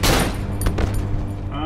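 Loud gunfire in the Cry of Fear horror game: a heavy close burst at the start, then a dense, rattling run of shots that carries on to the end.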